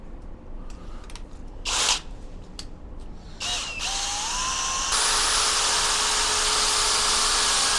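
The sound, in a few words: drill with plastic paddle mixing paint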